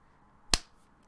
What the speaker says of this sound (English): I'm gonna applaud that.